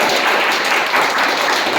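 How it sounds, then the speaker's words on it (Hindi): An audience at a public meeting claps loudly and continuously in a dense burst of applause. "उनके लिए जोरदार ताली बजाएं आप।"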